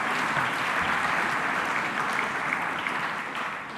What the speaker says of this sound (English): So a round of applause again for Ivan Cleary.